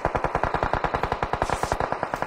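Rapid automatic gunfire in PUBG Mobile: one long, evenly spaced burst of loud, close shots with no pauses and no talk.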